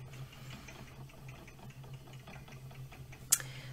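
A spinning wheel treadled steadily while spinning yarn with a short backward draw gives a soft, regular rhythmic ticking and low hum, faint and close, ending with a brief sharp click.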